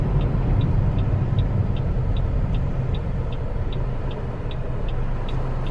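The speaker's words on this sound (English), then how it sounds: "you're nearly stopping, the RPMs fluctuate like really oddly." An idling car engine slowing to a stop, its revs hunting unevenly in a steady low rumble, with a faint, evenly spaced high ticking repeating through it and no talk.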